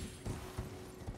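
Hooves of the horse Torrent in Elden Ring thud softly and rhythmically, a few quiet clip-clop steps on the ground, faint and alone.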